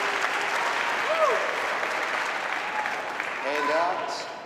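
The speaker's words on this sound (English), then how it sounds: "The crowd have gone absolutely bonkers." A tournament crowd at a squash match applauds loudly and steadily, with dense clapping and a few cheers, while a commentator speaks over it.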